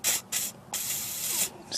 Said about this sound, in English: just kind of spray it and soak it pretty good on both of those